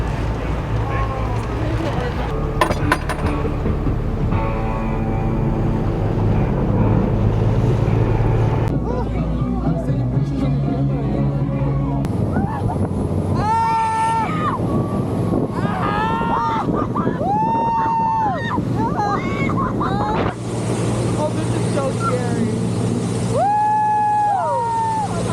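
A motorboat runs steadily on open water off Catalina Island, its engine hum mixed with heavy wind buffeting the microphone, while voices talk over it.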